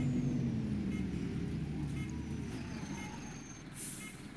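An Optare Solo M850 single-deck bus in the OMSI 2 driving simulator rumbles steadily along with a low engine drone, a hiss of air brakes near the end, and faint background noise.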